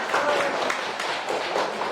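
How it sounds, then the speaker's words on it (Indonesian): A classroom group gives a teacher a round of applause, a dense, continuous patter of many hands clapping close by, steady throughout with a few voices mixed in. "Tepuk tangan dong buat Bu Erika."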